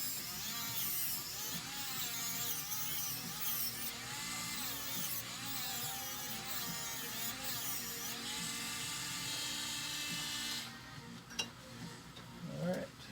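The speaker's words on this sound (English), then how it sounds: "So I'm going to go over this actually with the buffer again." A polishing buffer works over a sterling silver pendant set with labradorite, giving a steady high whine with wavering pitch as the piece is pressed against the wheel, then briefly dropping away toward the end.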